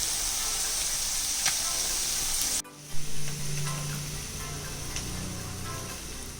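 Chicken liver fry sizzles in a pan with a steady, crackling hiss that cuts off abruptly midway and then resumes, joined by a brief stirring clatter.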